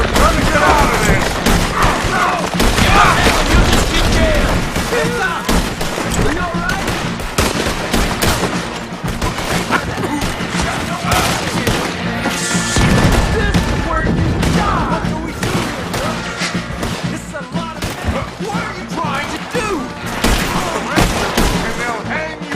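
Heavy gunfire in a Red Dead Redemption 2 shootout, with dense, overlapping volleys of rifle and machine-gun shots and booming thuds throughout, loud and continuous, with shouted voices mixed in.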